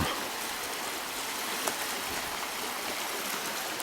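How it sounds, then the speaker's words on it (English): A small shaggy burn gurgles through an idyllic Scottish spot near Crieff, heard as a steady, broad rushing wash of water with no pauses and no voices. "listen to the gurgling shaggy burn"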